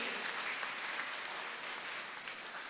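A church congregation claps together at a Catholic gathering, a broad, even wash of many hands applauding steadily for nearly three seconds, moderately loud and without talk.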